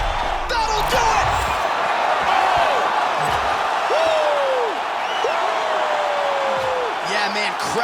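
Arena crowd in the EA Sports UFC 4 video game roaring and cheering after a knockout, a steady dense swell of many voices that stays loud throughout with a few whoops rising above it.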